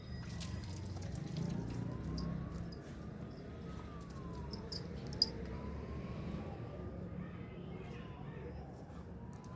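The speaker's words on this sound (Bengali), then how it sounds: "এরম করে আমি একটুখানি গাছে জল দিই" Water runs onto garden plants in a continuous soft splashing hiss, faint and steady throughout, with a thin wavering tone drifting in the far background.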